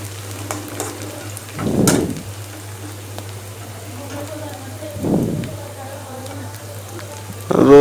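Chili peppers and onions fry in a pan with a steady, faint sizzle, broken by two brief louder bursts of stirring or spattering. A person speaks over the cooking at the end.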